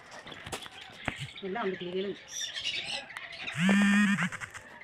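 Loud, harsh bird squawks, several calls in a row with the last one long and strident, over background voices talking.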